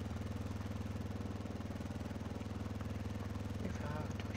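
A motorcycle engine from the ArmA 2 DayZ Epoch video game drones steadily as it rides through a forest, its constant mid-range hum filling the clip, and a brief voice appears near the end.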